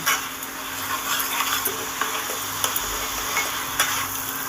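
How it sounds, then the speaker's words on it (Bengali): Spices with chilli powder and salt sauté in a pan, a steady sizzle broken by scraping stirs and light clicks of a spoon against the metal, with no voices. "সুন্দর করে মশলাটাকে কষিয়ে নেব"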